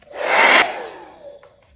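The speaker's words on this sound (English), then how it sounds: "Back with my hairdryer." A hair dryer blasts with a loud airy whoosh for about half a second, then its rushing hum trails off and fades.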